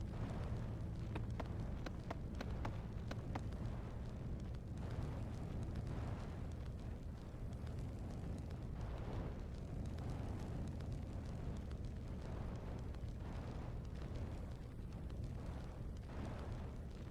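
A wooden hut burns in Suikoden 3, giving a continuous roaring, crackling rumble that stays loud and steady throughout, with no talk over it.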